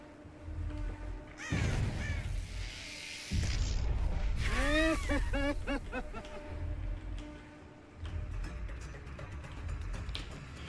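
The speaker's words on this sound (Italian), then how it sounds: "Sentito il corvo" A crow in a video game caws in loud harsh calls, first a single call and then a cluster of repeated caws. The calls come over rumbling game background noise.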